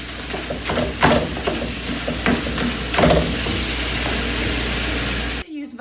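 Ground beef browns in a frying pan with a continuous crackling sizzle, broken by occasional scraping stirs of a utensil against the pan, close and fairly loud, with no talk.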